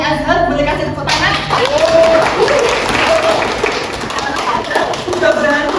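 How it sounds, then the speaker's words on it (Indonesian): Classroom applause during a microteaching lesson in Indonesia, a steady patter of students clapping that lasts several seconds, loud and close, with a brief voice at the very start. "Boleh kasih tepuk tangan?"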